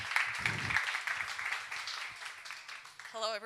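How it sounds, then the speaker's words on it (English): A crowd at a startup demo day event applauds with soft, scattered clapping that stays fairly faint and continuous, then fades as a voice begins near the end. "So round of applause for Danilo, for all Ukrainian founders, for A.D.A.M"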